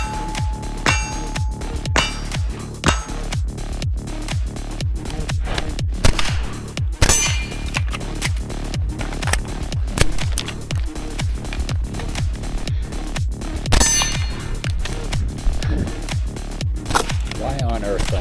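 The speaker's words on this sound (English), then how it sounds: "Why on earth I'm shooting to the right with this AR-9?" Rapid string of AR-9 rifle shots on a shooting range, each crack followed by a bright metallic clink of steel targets ringing, with sharp repeated impacts spread steadily across the whole stretch.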